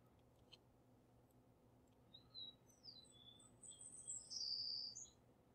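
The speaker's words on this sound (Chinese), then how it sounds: "把有鸟叫声的部分把它降音" Birds chirp and tweet in the background of an outdoor ambience. Scattered calls rise over a steady low hum and grow busier and louder toward the end, with no talking.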